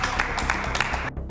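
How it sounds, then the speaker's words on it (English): A room full of people applauding after a vote-out in a live Mafia party game, dense steady clapping that runs continuously before cutting off abruptly near the end. "Can you all clap for it?"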